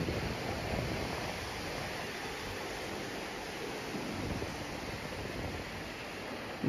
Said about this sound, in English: this is a nice white sand beach